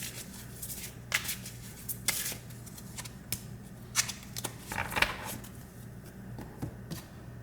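Tarot cards being shuffled by hand, close and quiet, in a series of separate riffling bursts and soft slaps spaced irregularly over several seconds, with no talking.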